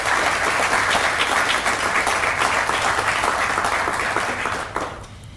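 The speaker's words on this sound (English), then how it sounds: "And please give them a round of applause." At a Teacher of the Year event, a large audience gives school board members dense, sustained applause that fades at the end.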